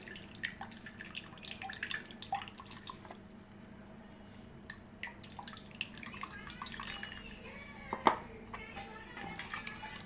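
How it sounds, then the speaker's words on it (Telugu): Tamarind pulp water is strained into a bowl, giving faint close trickling and scattered drips in a quiet kitchen. "ఇలా వడగట్టి తీసుకోండి"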